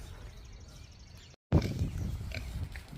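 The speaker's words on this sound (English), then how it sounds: "Hi, sweet pig." A pig in its pen on a homestead grunts and snorts close by, low rough grunts that come in a loud burst after a brief silence and continue over a hum of background noise.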